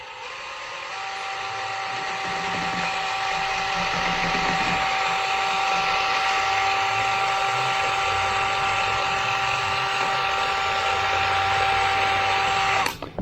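Casting material is churned by a power mixer that ramps up and holds a steady, loud, high-pitched whine with a constant tonal hum for over ten seconds, then cuts off abruptly.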